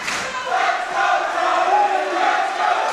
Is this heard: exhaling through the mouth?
no